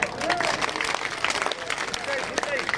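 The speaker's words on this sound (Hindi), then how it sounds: "दो ही हाथ ऊंचा कर ताली बजाओ।" Crowd at a Bharatiya Janata Party political rally in Siwana, Rajasthan, clapping in a dense, continuous burst of applause, with a voice speaking over the clapping.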